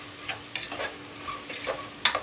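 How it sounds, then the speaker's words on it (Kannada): Garam masala, chilli and biryani powders fry in a pan for vegetable pulao, a soft sizzle broken by several brisk spoon scrapes and stirring strokes, close and without talk. "ಸ್ವಲ್ಪ ಚೆನ್ನಾಗಿ ಫ್ರೈ ಆಗಲಿ."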